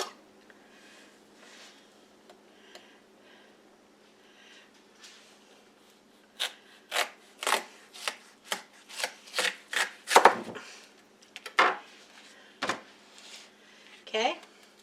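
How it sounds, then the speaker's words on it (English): Knife slicing through a whole watermelon to cut off its top, heard as a quick series of close, crisp cuts and crunches in the second half, with quiet handling before. "Now I'm going to cut off the top."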